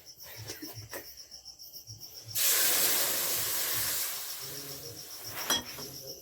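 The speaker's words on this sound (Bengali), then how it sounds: "এই কড়াইতে আবার একটুখানি দিয়ে দিচ্ছি জল," Water splashed into a hot wok after sesame seeds were fried bursts into a loud, sustained hiss of steam that slowly eases, preceded by faint kitchen clatter.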